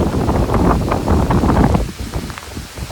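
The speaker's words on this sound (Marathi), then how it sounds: "लय जोरात पाऊस आलाय बाबू." A sudden heavy downpour pours over an open rural spot with trees, a loud, dense, steady roar of rain that eases somewhat after a couple of seconds, with no talking.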